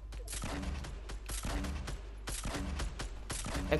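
Rapid gunfire in the Fortnite video game, dense repeated bursts of shots rattling steadily throughout, loud and continuous with no clear pauses.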